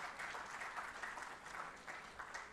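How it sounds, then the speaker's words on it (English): Steady applause from a conference audience honoring a quantum computing researcher, a dense, even wash of many hands clapping at moderate distance, continuous throughout without voices standing out. "A big round of applause for his goal"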